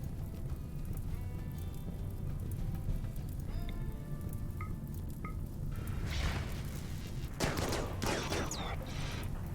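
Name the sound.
gunfire from the video game RimWorld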